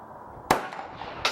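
A pistol fires two sharp, loud gunshots at a shooting range, about three-quarters of a second apart, each with a short ringing tail.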